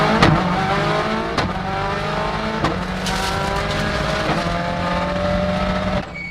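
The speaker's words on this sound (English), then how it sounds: "Let's ride on board for a while and get a taste of what the car sounds like in action." From on board a Subaru Impreza WRC P2000 rally car, the engine screams loud and close, climbing through the revs in repeated bursts with sharp pauses for gear changes.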